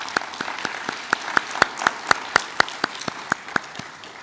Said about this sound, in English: Have another round of applause for Joanne